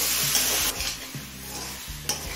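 Vegetables with turmeric and cumin fry in a pan for a Bengali kochu shak labra, giving a steady close sizzle broken by a few clattering stirs, with no talk.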